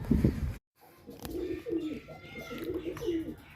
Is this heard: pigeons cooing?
yes